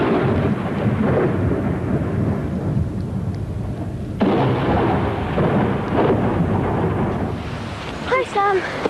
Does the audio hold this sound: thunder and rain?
yes